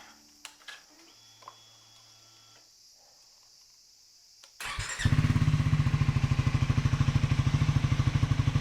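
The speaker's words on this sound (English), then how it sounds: "let's do a quick startup with the standard exhaust" After a few quiet clicks, a Triumph Scrambler 400X motorcycle engine with stock exhaust cranks and fires up. It settles into a loud, rhythmic, throbbing idle close by.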